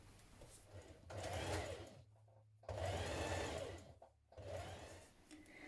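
A sewing machine stretch-stitching the side seam of a fleece hoodie, running in three bursts of rapid whirring separated by short pauses, close and clear with no talking.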